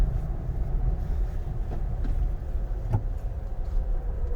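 A Mahindra Thar driving along, a low steady engine and road rumble heard from inside the cabin, continuous and fairly quiet with a faint click near the end and no talking.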